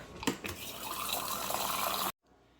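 Water pours steadily into a container for about two seconds, with a couple of knocks at the start, then stops abruptly.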